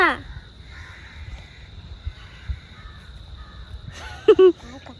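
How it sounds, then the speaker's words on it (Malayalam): A crow caws briefly at the start, then gives a few loud, close, harsh caws near the end over quiet background noise. "കാക്ക"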